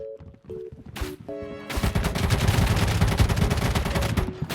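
Rapid gunfire from a zombie shooter game, ZOZ: Final Hour, with a gun firing incendiary rounds: a few short game tones, then a loud sustained burst of fast automatic shots that continues to the end.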